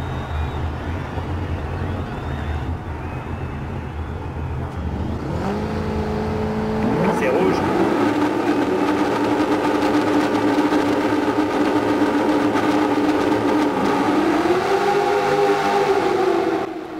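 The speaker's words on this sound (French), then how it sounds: "nous roulons avec notre voiture issue de notre équipe, le MLP Motorsport, notre pick-up" A pick-up truck in the DiRT 4 racing game idles loudly and then revs up at the race start, its engine note climbing and holding a steady drone before rising again, with other cars around it.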